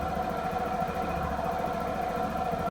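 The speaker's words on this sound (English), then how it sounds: "We will do a hard rev and see how it goes." A Honda PCX150 scooter engine running with a steady, droning mid-pitched hum and a constant tone, close and sustained, with no clear rise in pitch.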